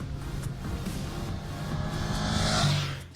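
A Ducati Panigale 959 motorcycle on the move, its engine a steady close drone that swells and rises in pitch toward the end, mixed with rushing wind.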